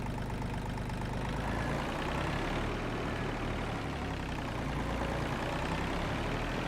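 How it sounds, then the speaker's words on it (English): Tractor engine idling in Farming Simulator 22, a steady low rumbling drone with no change in pitch, held evenly throughout and heard alone without talk. "they're not the best sounding tractors out there"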